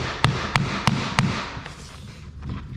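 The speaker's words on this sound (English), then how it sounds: "grab my hammering block and go over below the seams and just give it a few taps" Four sharp, evenly spaced taps of a hammering block over vinyl plank flooring seams, followed by a few softer, duller knocks.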